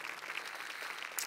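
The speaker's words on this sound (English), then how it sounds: "just a round of applause for the speakers" Seminar audience at a blockchain event applauds the speakers, a brief, steady burst of clapping heard at moderate distance.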